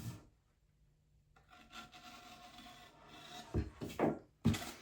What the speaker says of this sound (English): When I'm cutting the excess tape off, I'm cutting against the tape.